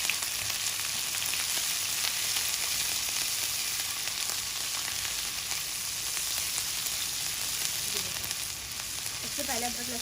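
Steady, close sizzling of ginger and garlic frying in two tablespoons of hot oil, a constant crackling hiss with no talking.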